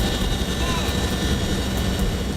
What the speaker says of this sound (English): The storm won't hold up the helicopter